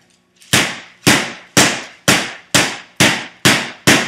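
A mallet pounds food covered with parchment paper, eight sharp, loud thuds landing at an even, steady rhythm, each fading quickly before the next.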